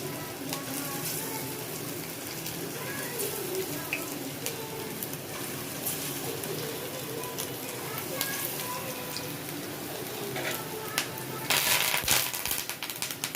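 Chicken kebabs frying in a hot pan, a steady close sizzle and crackle throughout, growing louder near the end.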